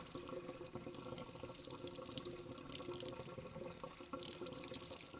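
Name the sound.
washing a crab shell under running tap water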